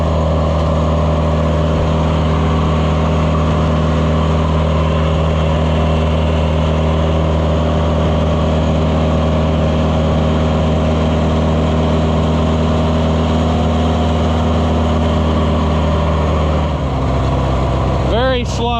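An Oliver 1250 tractor's diesel engine runs steadily at a loud, even idle on a test run after fuel system cleaning, then drops off near the end with a brief mechanical sweep.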